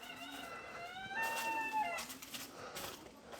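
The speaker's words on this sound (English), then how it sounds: "We got chickens in here." Chickens in a pen on a farm in Surin, Thailand give a short, drawn-out squawking call, fairly faint against quiet background noise.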